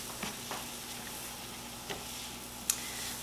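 Vegetables and flour frying in a pan on medium heat, a steady close sizzle with a few soft clicks and taps from stirring, no voices.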